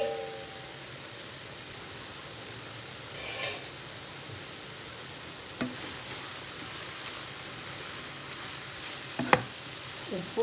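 Chopped spring onions fry in a pan with a steady, gentle sizzle, and a few scattered scrapes and clicks come from stirring.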